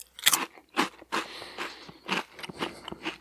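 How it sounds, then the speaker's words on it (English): Several sharp, crisp crunches from biting into and chewing a crunchy Cheeto, close to the microphone, arriving in an irregular rhythm of about six distinct bites and chews with no talking. "He brought me a crunchy Cheeto."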